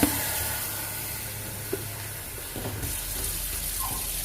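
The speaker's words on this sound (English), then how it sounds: "I'm going to add the water." Water runs and splashes steadily into a cooking pot of meat for oha soup, a hissing stream that grows fuller and louder toward the end.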